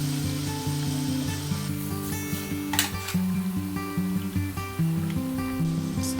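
Bacon and fresh tomato sizzle in a pan for a tomato, aioli and bacon pasta, a steady soft crackle and hiss running throughout with faint clicks over a quiet background hum.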